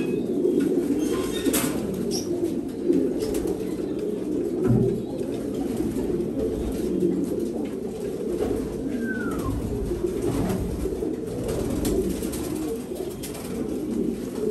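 Racing pigeons coo steadily in a loft, with soft repeated calls and an occasional brief flutter of wings, close and continuous throughout.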